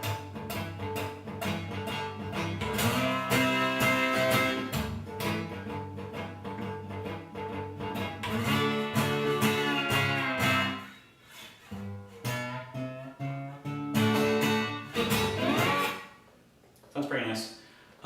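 A slide guitar in open G tuning plays a rock and roll shuffle, giving a loud, driving, rhythmic groove of sliding chords that drops out briefly near the end before resuming, with no talk.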